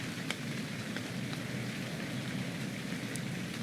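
Rain falls in the survival video game ARK: Survival Evolved, a soft, steady hiss of drops with a few faint brighter patters, quiet and unbroken, with no talking.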